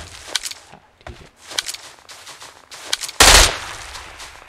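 Rapid bursts of gunfire from a gun in the video game PUBG Mobile on the Erangle 2.0 map, a series of sharp close shots in quick clusters ending in a louder, heavier blast near the end.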